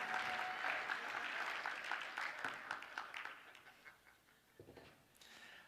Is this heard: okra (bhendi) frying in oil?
no